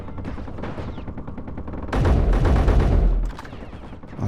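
Turret gunfire in the Space Engineers survival game, a rapid run of dense repeated shots that grows louder and heavier in the middle before easing back, with no talking.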